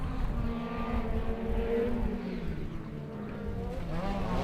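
Short-course off-road race trucks roar around a dirt track on the final lap, a dense, continuous engine drone with rising and falling pitch as vehicles pass near and away.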